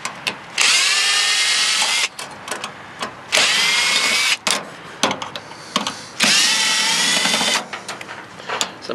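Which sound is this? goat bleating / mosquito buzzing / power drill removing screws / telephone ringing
power drill removing screws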